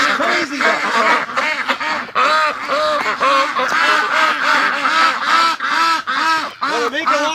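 A dense flock of farmyard ducks quacks loudly and continuously, many overlapping calls close by with a few goose-like honks mixed in, filling the whole stretch without pause.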